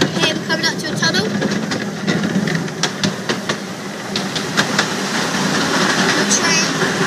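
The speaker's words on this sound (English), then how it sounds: "A train." A train rumbles and clatters past during a ride near a tunnel, a continuous loud mechanical roar with rhythmic clicks and hiss, while people talk over it.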